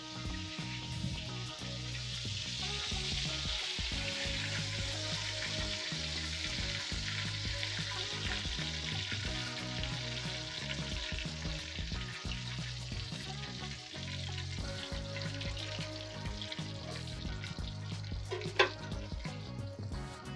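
A country fried ribeye steak sizzles and crackles steadily in a hot pan, a dense continuous frying hiss with occasional pops, close and unbroken, with no talking.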